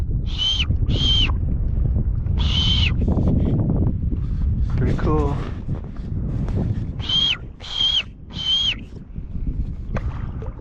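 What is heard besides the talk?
birds of prey hunting over water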